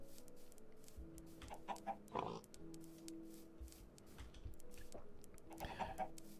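Minecraft chickens cluck in short scattered bursts over a steady low hum, a few louder squawks standing out, with some shuffling noise in between.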